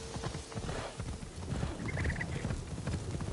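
Horse hooves clip-clop in steady rhythmic beats in Assassin's Creed Shadows, a moderately quiet gallop over a muddy game soundscape with a brief high-pitched tone in the middle.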